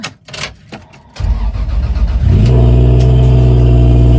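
A race car with a Toyota 1JZ engine cranks and fires up after some clattering handling sounds, then settles into a loud, steady, close idle and rev.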